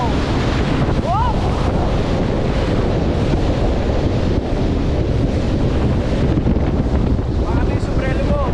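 Rough ocean surf churns steadily with heavy wind buffeting the microphone, and a few brief voices and whoops rise over the roar.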